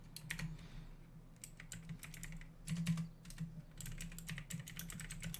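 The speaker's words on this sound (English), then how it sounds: "I'm typing there towards you" Quick, irregular bursts of keystrokes on a computer keyboard during a game stream, close and fairly quiet, pausing briefly between flurries, with no voices.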